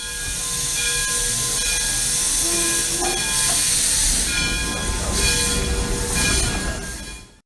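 A steam train rumbles steadily close by, with hissing steam and faint sustained whistle tones over the churning engine noise.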